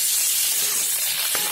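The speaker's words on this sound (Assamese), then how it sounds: "এইখিনি ভালদৰে ভাজি ল'লোঁ মই ডিমাকেইটা।" Fish roe fries in hot oil Barpeta style, giving a continuous bright sizzling hiss that holds steady at close range through the whole short stretch, with no voices.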